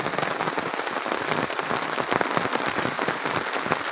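Heavy rain pours down steadily over a natural canal where fishing is under way, a dense, loud, continuous hiss of drops close by with no talking.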